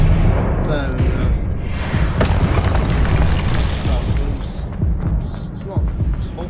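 Spell explosions booming repeatedly in Hogwarts Legacy combat, including the Confringo blast, heavy and continuous with dense crackling bursts, mixed with game sound effects and voices throughout.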